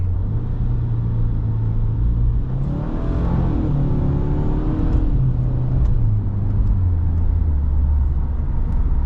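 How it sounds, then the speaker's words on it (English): A 2022 Subaru WRX GT with Performance Transmission grumbles steadily and low from inside the cabin, with its pitch rising and falling as the revs change. "I like the grumble of this engine though."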